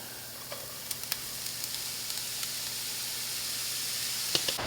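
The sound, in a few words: mushrooms frying with garlic and shallots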